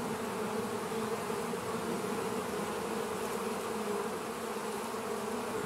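A dense swarm of honey bees at a crowded hive entrance makes a steady, close buzzing drone that holds an even level throughout with no talk.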